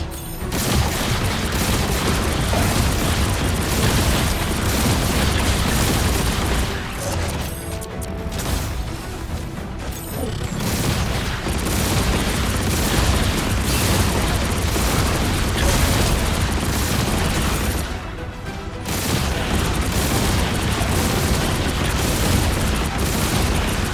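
Rockets fire and explode in the Marvel Rivals video game, a dense, continuous wall of booming blasts and bursts that stays loud throughout, with two brief dips in the barrage.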